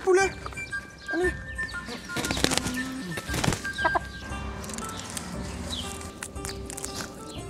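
Several chickens cluck and squawk in a busy outdoor scene, with bursts of wing flapping and other birds calling around them.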